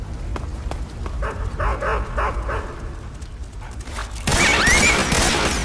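Dogs bark repeatedly in Metal Gear Solid 3, fairly loud and close amid game sound effects, before a sudden burst of louder noise near the end.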